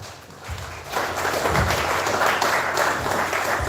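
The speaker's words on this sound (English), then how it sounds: "A round of applause." Audience applause welcoming a church leader to speak at a Christian youth politics gathering in Langtang North, Nigeria; steady, dense clapping from a crowd swells in after a moment and holds at full strength.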